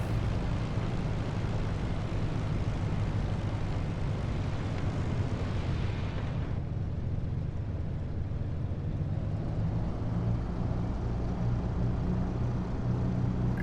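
Twin engines of a de Havilland Mosquito start up in the DCS World flight simulator, a loud, steady, close droning roar that fills the whole stretch and shifts slightly in tone partway through.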